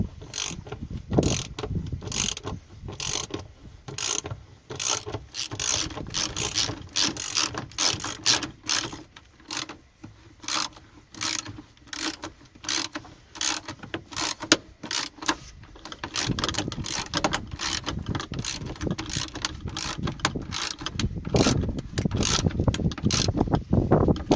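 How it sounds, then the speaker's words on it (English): Plastic seatbelt bushing in a Ford Fusion interior, clicking and ratcheting in rapid, irregular bursts at close range for most of the stretch, with no talking. "That's just that plastic bushing you're hearing."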